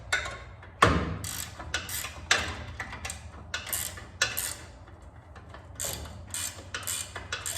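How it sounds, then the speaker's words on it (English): A ratcheting wrench tightens down all-thread rod while Moroso trick springs are installed, giving a series of close, sharp metallic clicking bursts in irregular strokes, with no talking. "ratcheting wrench. Start tightening down the awl thread."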